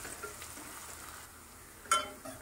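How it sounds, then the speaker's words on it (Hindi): Chopped onions frying in hot oil in a pan for mutton korma, a soft steady sizzle with a brief sharper clink near the end, quiet and close, no talking. "ये ऐड कर देंगे और प्याज को गोल्डन ब्राउन होने तक फ्राई करेंगे।"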